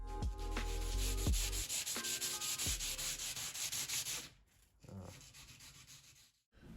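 Sanding a Danish teak table top during refinishing, a steady abrasive rubbing with rhythmic strokes and a few higher tonal squeaks, close and loud, then fading to quieter scratching near the end.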